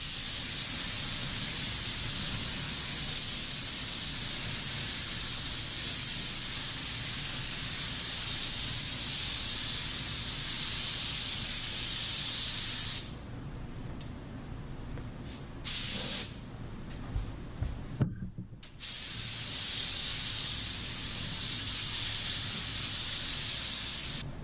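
Spray gun laying a light tack coat of paint onto a panel, a steady loud hiss that runs for about thirteen seconds, breaks off into short bursts, then resumes continuously.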